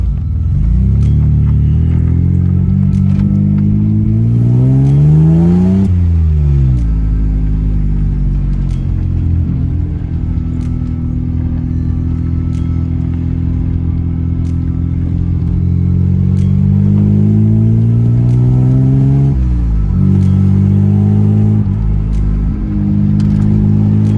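Mercedes W203 fitted with a swapped M104 3.2-litre straight-six engine, driving with loud rising and falling revs through the gears, heard from inside the car, continuous engine drone with no talking.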